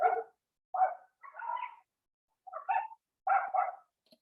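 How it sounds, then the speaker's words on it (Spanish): Neighbouring dogs bark in six short, sharp bursts in an irregular rhythm, fairly close and loud, with no talking. "sacaron a los perros de mi vecino y se están escuchando mucho, creo que los perros"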